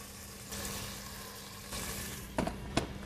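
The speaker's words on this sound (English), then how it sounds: "So my meat is searing just with these three spices in." A T-bone steak searing in a pan with three spices, a continuous soft sizzle with two sharp clacks of a utensil near the end.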